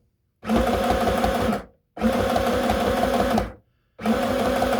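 A sewing machine stitches a red cotton skirt, running in three even bursts separated by short pauses as it back stitches and then stitches forward, close and loud with no talk.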